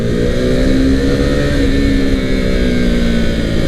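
A KTM RC390 motorcycle engine drones loud and steady, its hum reverberating in an enclosed tunnel, with a gently shifting pitch.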